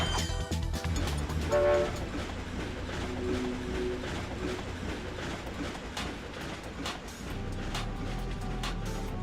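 A train in the video game Ratchet & Clank rumbles along with a steady rolling clatter, a brief horn-like tone early on, and rhythmic clicks over a low continuous drone.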